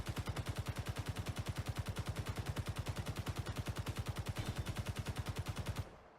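Character gun in Space Engineers fires a long, steady automatic burst of rapid, evenly spaced shots lasting about six seconds, loud and close, ending abruptly with nothing else heard.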